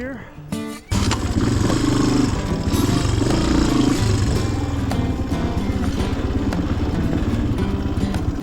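Honda XR200 trail motorcycle engine starts after a brief clatter and then runs at a steady, loud, close idle with a throbbing low rumble, while a voice speaks over it.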